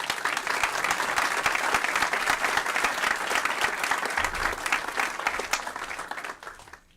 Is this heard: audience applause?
yes